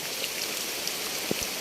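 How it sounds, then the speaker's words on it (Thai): Heavy rain falling at night in a rural farm area, a steady close hiss of dense drops on surfaces with a couple of louder splats near the end. "ฝนตกหนักมากนะครับ"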